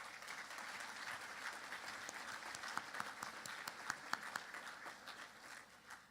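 Faint, somewhat distant applause from an audience at a chamber's 80th annual celebration dinner honoring culinary students, an even continuous patter of many hands that swells slightly with a few sharper claps midway, with no talking.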